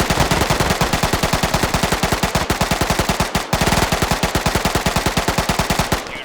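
Sustained, rapid machine gun fire from militia gunners in the military video game Arma 3, a dense rhythmic burst stream that barely pauses for a brief break midway before resuming loud and close.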